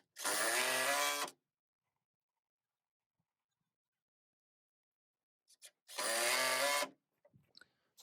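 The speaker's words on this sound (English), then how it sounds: "You'll see that I do pre-drill" A power drill pre-drills holes in the end of a wooden rafter outrigger during barn gable framing, two loud close bursts of high-pitched whirring about a second each, separated by silence and followed by faint clicks.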